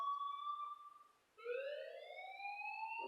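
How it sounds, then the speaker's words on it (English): An alarm blares in the Life is Strange video game, a steady electronic tone that breaks off briefly and then comes back louder as a rising, siren-like wail, with no talking. "please turn off that alarm since that's your job."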